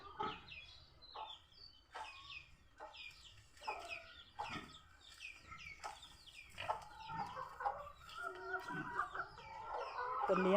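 Laying hens cluck in short repeated bursts, a busy flock close by, growing louder and denser toward the end.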